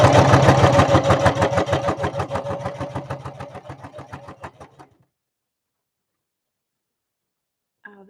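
A sewing machine stitches a zippered bag in one steady run of rapid, rhythmic needle strokes, close and loud, stopping after about five seconds; silence follows, then a brief faint sound right at the end.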